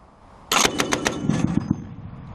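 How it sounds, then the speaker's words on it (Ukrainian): A heavy machine gun fires a short rapid burst during military field training, loud and close, with sharp bangs in quick succession that fade into a brief echoing tail. "часом навіть стати за крупнокаліберний кулемет"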